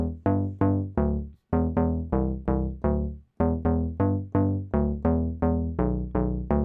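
Synth bass patch run through an SSL valve compressor plugin, a rhythmic line of punchy, rounded bass notes with steady decays, a few sustained longer tones between, clean and alone at moderate level.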